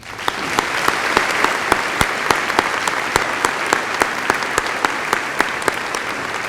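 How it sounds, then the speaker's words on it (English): An audience at a high school graduation ceremony gives a steady, full round of applause for scholarship award recipients, dense clapping with individual sharp claps standing out throughout. "Please give them a round of applause"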